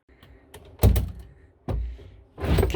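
A cabinet door closes repeatedly with dull wooden thunks, three distinct knocks spaced about a second apart and heard close up, with faint rattles between them.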